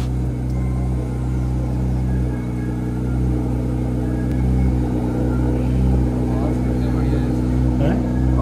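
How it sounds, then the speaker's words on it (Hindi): A Porsche 911 GT3 flat-six with the sports exhaust switched on idles with a steady, deep, throbbing rumble that holds even and close throughout, with some talk over it. "कुछ वैसा सा इंजन का नोट है ना, बॉक्सर इंजन की तरह कर कर कर कर कर, वो वाला नोट है इसका"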